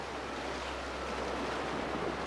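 Ocean surf at a beach where a beginner is about to learn surfing, a steady broadband wash of breaking waves rolling continuously throughout, fairly quiet and with no talking.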